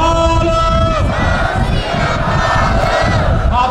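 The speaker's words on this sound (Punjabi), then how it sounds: "ਇੱਕ ਵਾਰ ਸਤਿ ਸ੍ਰੀ ਅਕਾਲ ਕਹਿ ਕੇ ਦੱਸ ਦਿਓ" A crowd at the New York City Sikh Day Parade in Manhattan shouts together in a sustained roar, loud and near, the Sikh jaikara Sat Sri Akal raised by many voices at once.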